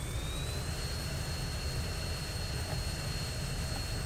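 Fighter jet engine in the Falcon BMS flight simulator spooling up during a ramp start toward about 70 percent, a loud steady roar with a rising whine holding throughout, no voices.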